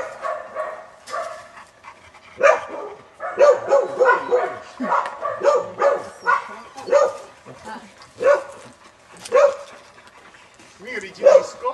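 A dog barks repeatedly in short, close bursts, mixed with panting and a few whimpers, while a person talks over it.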